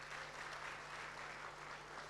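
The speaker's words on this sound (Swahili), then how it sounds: "Kwa hiyo tuwaongezee makofi mengi sana kwa utayari huo." Steady applause from a gathered audience at a sports-related event, a dense even patter of clapping that holds at the same level throughout with no voices standing out.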